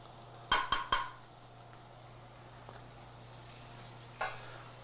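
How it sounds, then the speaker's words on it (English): Heavy cream going into a hot sauté pan over medium-high heat: a low steady sizzle broken by three sharp clinks of metal on the pan early, then another clank near the end. "We're going to take that heavy cream that I sent you."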